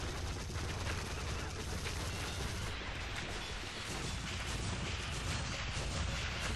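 Tower gunfire in the Sanctum 2 video game, heard as a constant dense barrage of rapid shots and crashing impacts, loud and unbroken.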